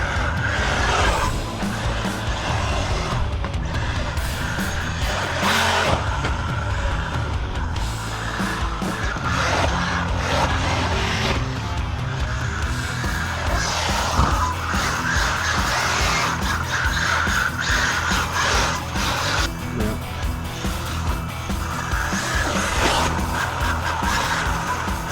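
Traxxas UDR RC truck with no steering lock sliding around a turn, its motor whining loudly and continuously with tires scrabbling across the surface throughout.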